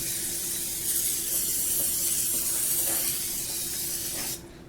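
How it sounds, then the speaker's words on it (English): Canola oil cooking spray hisses into a casserole dish in one continuous, close, airy burst lasting about four seconds, then cuts off abruptly. "I'm just going to use my little spray pan. It's actually canola oil."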